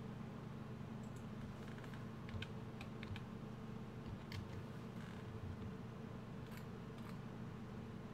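Computer keyboard typing, a scattering of soft, irregular key clicks over a steady low hum from the room or a fan, fairly faint and with no voices.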